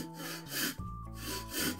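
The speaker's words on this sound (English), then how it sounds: "now I'll start sawing back and forth." A hand saw cuts back and forth through a wooden stick, producing rhythmic rasping strokes of coarse scraping close by, roughly four strokes in under two seconds.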